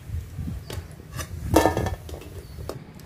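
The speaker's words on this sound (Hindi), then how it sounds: "अब हम इसे निकाल देते हैं एक बर्तन में।" Fried soybean chunks are moved into a metal pot with metallic clinks and scrapes, including one brighter clang midway over a low background rumble.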